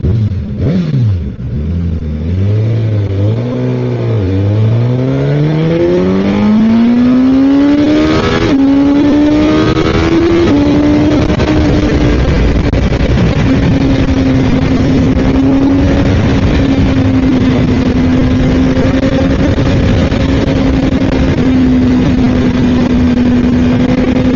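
A Suzuki Katana motorcycle launches with a loud, close engine roar that climbs steeply in pitch, dips, rises again and then holds a sustained high rev for the rest of the stretch.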